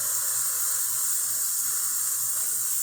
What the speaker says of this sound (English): it just shows the steam is working